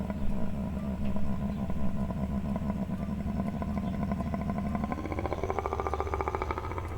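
Reconstructed dinosaur call with an engine-exhaust character: a steady, loud low rumble with rough pulsing texture that grows denser and more rattling toward the end, with no talk over it.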